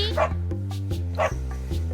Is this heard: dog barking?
yes